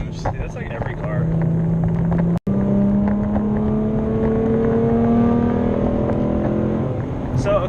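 A Roush RS Mustang with a V6 engine revs outside the car, its pitch climbing in long rising sweeps. The engine is loud and close, and one abrupt cut comes early on.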